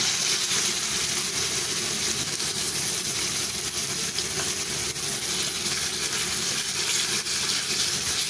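Ground mutton frying in oil in a kadai, a steady, loud, even sizzle with no breaks.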